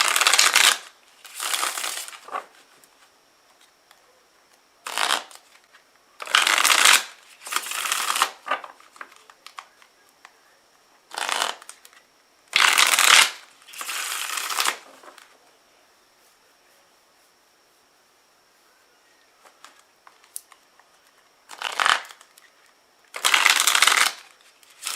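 Cards for a tarot-style reading are shuffled in about nine crisp, papery bursts of riffling, separated by quiet pauses and heard up close.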